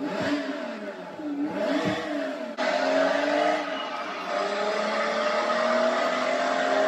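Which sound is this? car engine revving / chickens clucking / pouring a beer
car engine revving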